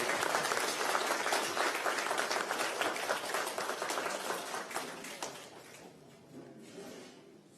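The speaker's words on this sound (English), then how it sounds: "So please give him a round of applause inside." An audience at a Veterans Day gathering applauds a pastor and Army veteran, a burst of clapping that slowly thins and fades away.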